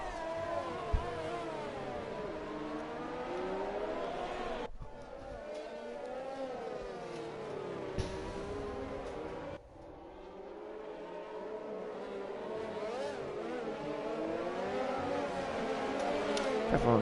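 Race cars on the Singapore formation lap in a racing video game, several engines droning and shifting pitch together at moderate volume, with a few gear changes and lifts breaking the steady hum.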